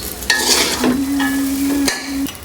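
Chow mein is stirred and mixed in a pan, with a few scraping strokes and clinks against the metal over a quiet background. The sound is close and clear, and no one speaks.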